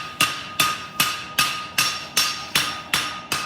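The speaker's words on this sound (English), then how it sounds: "I'm going to extend out the flat side of the hammer" Sharp metallic hammer strikes, nine evenly spaced blows with a bright ringing decay, close and loud with no voices.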